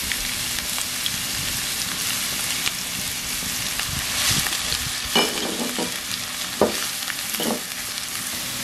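Garlic and onion sizzle in hot oil in a pan while being stir-fried for an egg foo young omelette, giving a loud, steady crackling hiss with occasional scraping stirs.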